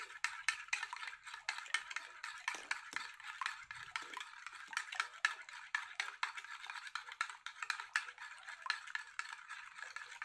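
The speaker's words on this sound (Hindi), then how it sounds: "एक मिनट के लिए इसे इसी तरीके से हमें घोलना है" Homemade vanilla extract mixture being stirred, a steady run of quick, light scraping and clinking strokes with no talk over it.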